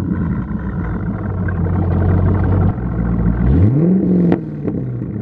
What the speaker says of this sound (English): Billy Boat. Cold start.